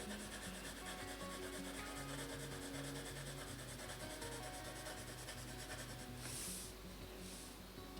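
Colored pencil is lightly blended and smoothed over skin areas of a paper self-portrait, making a soft, continuous scratchy rubbing, close and quiet, under faint background music.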